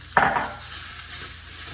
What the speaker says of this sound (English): So we will just sear that. We'll add the mushrooms.